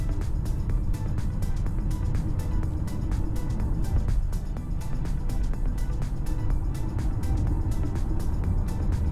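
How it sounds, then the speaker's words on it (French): An Audi S8 with the 5.2 V10, on a test drive after an ABS block fault and brake bleed, runs steadily from inside the cabin, a continuous engine and road rumble through braking and cornering. "Déjà sur le petit freinage que je viens de faire, il n'y a pas de dérive, ça freine bien."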